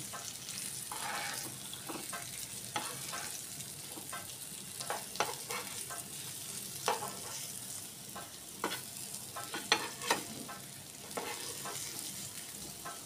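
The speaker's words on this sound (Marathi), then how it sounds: "त्याच्यामुळे स्लो गॅसवरच आपल्याला हे फिश फ्राय करायचं आहे." Pomfret fish frying in a pan over low gas, a steady close sizzle with scattered pops and crackles throughout, no talking.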